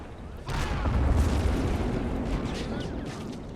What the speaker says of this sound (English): Love how you can hear the distant explosions.